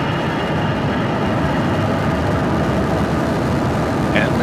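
Falcon 9 rocket engines roar at liftoff on the CRS-33 cargo Dragon launch, a loud, steady, broadband rumble that fills the whole span without a break, with a faint voice briefly audible near the end.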